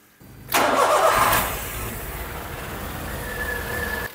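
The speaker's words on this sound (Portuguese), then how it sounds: "Vou funcionar o carro, porque aí ele vai fazer a bomba d'água trabalhar" A Volkswagen Gol engine cranks briefly and catches, then settles into a steady idle rumble.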